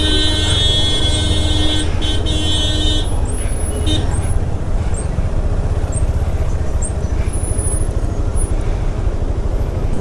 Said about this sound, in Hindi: सिटी में है बहुत ज़्यादा ट्रैफिक जैम, बहुत गंदा ट्रैफिक जैम